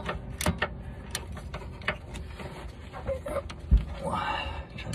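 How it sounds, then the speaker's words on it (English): A manual ratchet tightens a locking nut while a low profile Energy Suspension bump stop is fitted, giving quick bursts of close ratcheting clicks and a few clanks amid background noise. "Get our peasant ratchet, seeing as the locking washer or locking nut does not like the electric ratchet."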